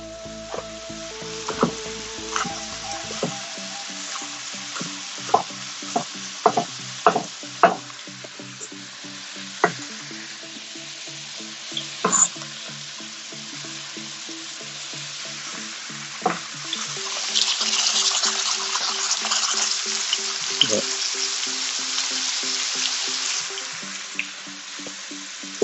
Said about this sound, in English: And all of this I'm going to fry. Saute in this pan here.